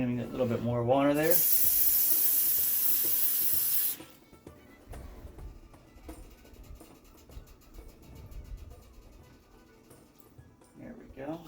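A brief voice opens, then a strong, hissing stream of extra water pours into a cooking pot for about three seconds before stopping, followed by low kitchen clatter.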